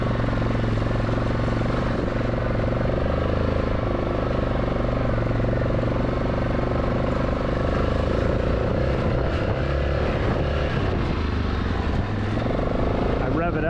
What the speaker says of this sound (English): I rev it up and spin the wheels out like that just to clear some of the mud out.